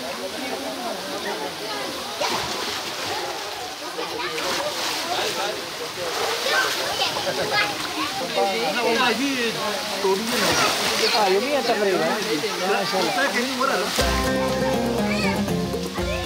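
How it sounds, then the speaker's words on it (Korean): A wadi stream in Oman flows steadily with a continuous splashing rush, fairly loud and close. Children's voices and playful shouts carry over the water throughout, and music enters near the end. "화려하지 않아도 언제나 꾸준히 흐르는 와디의 물줄기가 오만을 풍요롭게 적신다"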